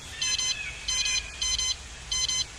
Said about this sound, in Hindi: उसके बैग में रखे ट्रांसमीटर से तेज बीप की आवाज आने लगी